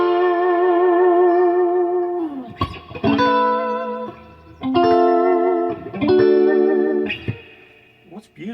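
An electric guitar, a Stratocaster-style partscaster on bridge and middle pickups, with a bright, slightly hollow, quacky tone plays a few ringing chords and notes, each held and left to sustain, with echo and chorus.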